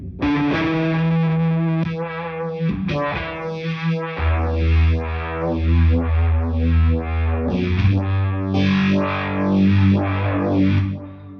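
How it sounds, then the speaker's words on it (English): An electric guitar through distortion on a Headrush multi-effects pedalboard plays sustained chords with swirling, sweeping modulation effects, loud and continuous. "Can we have all the distortion before the reverb?"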